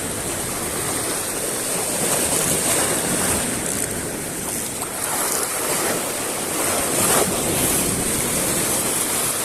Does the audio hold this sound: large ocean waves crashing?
yes